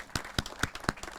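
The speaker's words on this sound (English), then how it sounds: "Just give him a nice round of applause." Only a handful of people clapping for the city architect at an outdoor bicycle-footbridge topping-off ceremony, sparse distinct claps at a slow, uneven pace.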